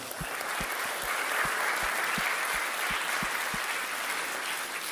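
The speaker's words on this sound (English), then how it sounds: "Can we give a round of applause for all of our old people?" An audience at a talk claps steadily for several seconds in dense, sustained applause, honoring the older people among them, with a few low thumps beneath the clapping.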